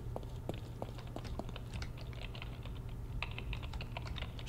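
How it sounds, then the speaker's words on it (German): Rapid keyboard typing in the horror video game The Evil Within, irregular clusters of keystrokes clicking steadily over a low constant background hum, moderately close and continuous throughout. "Schreibt einer auf der Tastatur."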